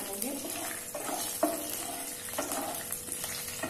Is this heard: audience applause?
no